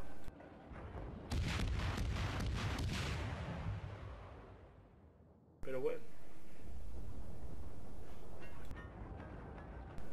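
Naval gunfire from the British cruiser Weymouth in World of Warships, a few heavy booming salvos with rumbling tails, mixed with game sounds while someone talks over them.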